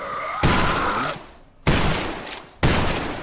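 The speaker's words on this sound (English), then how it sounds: "It's time for our friend the shotgun to come to play." Shotgun blasts in Garage Bad Trip: three loud, close booms spaced about a second apart, each with a sharp attack and a short decaying tail.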